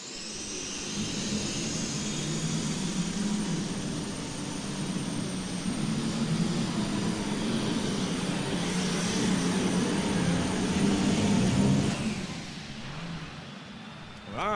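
An International 686 super stock pulling tractor, the Screamin' Demon, roars loudly and steadily down the track at a farm machinery show. The engine howls for about twelve seconds and then cuts off abruptly.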